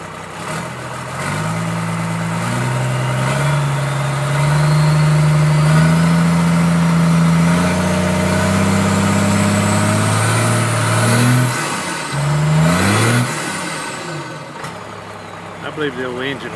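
A 12-valve Cummins diesel swapped into a Ford F350 runs steadily, its deep engine drone rising and falling in pitch with revs before dropping off near the end, with speech heard alongside.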